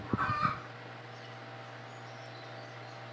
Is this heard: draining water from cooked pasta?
no